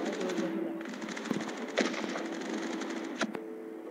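Rapid gunfire from the mobile shooter game Sniper 3D Assassin, a string of sharp cracks over steady game background tones, with a few louder shots standing out near the middle and end.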